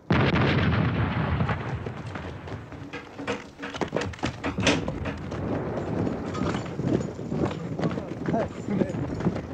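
Artillery booms and gunfire crash through a 1977 war-film battle scene, mixed with galloping hooves, shouting voices and continuous loud chaotic noise.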